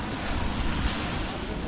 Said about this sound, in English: I love how the water beats on the rocks over here